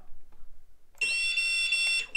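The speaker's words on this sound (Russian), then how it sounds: "Пищалка работает." A shrill, steady electronic beep from a quadcopter drone's buzzer sounds continuously for about a second after a moment of quiet, loud and close.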